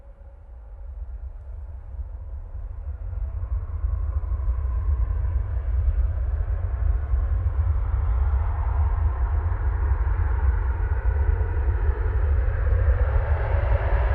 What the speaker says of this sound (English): Second Qatar, I think this is 787-9 Dreamliner coming in from Doha now.